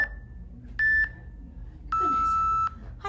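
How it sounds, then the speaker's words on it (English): A workout timer beeping, with three clean electronic tones: a long quiet one, a short louder one and a longer loud one, separated by near silence. "Okay, timer's off."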